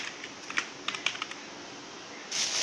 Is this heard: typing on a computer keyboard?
yes